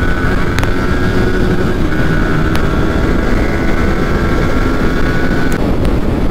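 Motorcycles in a 180cc versus 155cc drag race give a loud, continuous engine roar with a sustained high whine and wind rush, running steadily with no speech heard.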